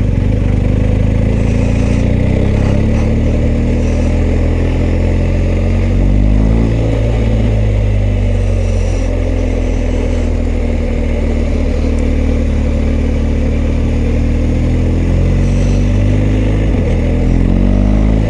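A BMW R1250GS motorcycle engine drones loud and steady while riding in second gear, with a constant low rumble and wind noise close to the rider. Small rises and falls in revs come through, and no voice is heard.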